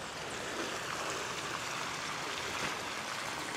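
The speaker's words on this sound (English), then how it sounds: "The water's going that way first instead of overflowing right there" Water rushes steadily into a dug basin in a desert backyard, filling the depression beside an earthen berm, a continuous broad gurgling wash with no pauses.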